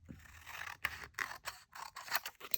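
Close, quiet snips of scissors cutting through junk mail paper, several short crisp cuts in an irregular rhythm with a faint papery scrape between them.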